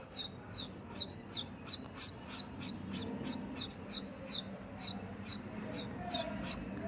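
A little boy imitates a bird, whistling a quick string of about a dozen thin, high chirps in an even rhythm. The chirps are faint and sit over a steady background hiss.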